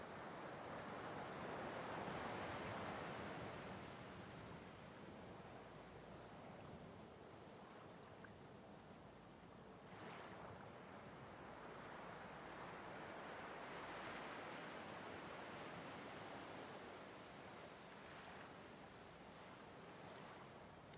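Ocean waves lap steadily on a shore in the video game Divinity: Original Sin 2, a soft continuous wash of surf with gentle swells, alone and without voices.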